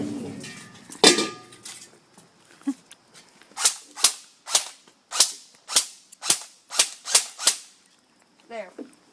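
A KingArms M4 airsoft rifle shooting at about 495 fps fires a string of sharp, snappy single shots in a fairly even rhythm, loud and close, after an earlier louder crack, with no talk.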